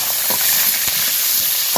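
Carrots frying in a pan for fried rice give a steady, close hiss and sizzle with a few small pops, heard alone with no talk.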